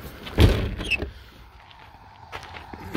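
A fiberglass Leer 100RCC truck cap door on a Ford F-150 bed swings shut with a solid thump, followed by a brief latch click and quieter mechanical clicks of locking.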